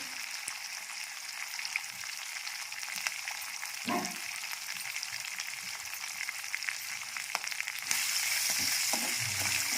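Curry leaves crackling in hot oil for a lemon pulihora tempering, a steady close sizzle throughout with a few soft knocks and stirring sounds, growing slightly louder near the end.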